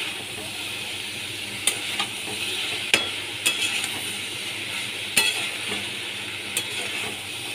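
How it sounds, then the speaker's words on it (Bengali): Potatoes and soybeans are stirred in a sizzling pan, steady frying hiss with occasional sharp scrapes and clinks of the spoon against the pan. "ভালো করে আমি আলু আর সয়াবিনগুলোকে মিশিয়ে নিচ্ছি।"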